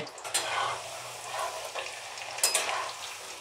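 Potato french fries sizzle and crackle in hot oil, a small batch lowered in a little at a time, with bursts of bubbling that swell and fade, close and moderately loud, with no talking.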